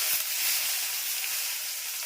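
Onion and garlic, along with turmeric and dried red chilli, frying in hot oil in a home kitchen wok. The result is a steady, close, bright sizzling hiss with no talk.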